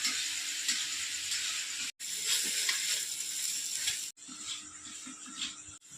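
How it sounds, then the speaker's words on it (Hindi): Tender kopal leaf shoots sizzle steadily while frying in a pan, a bright continuous hiss with brief breaks and occasional stirring scrapes, close and fairly quiet. "और इसको कुछ देर के लिए हम इसको भूंजेंगे यानी कि फ्राई करेंगे।"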